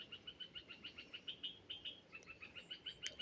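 Sparrows at a farm chirp in quick, regular bursts, a busy string of high tweets that is fairly faint but clear against quiet open air.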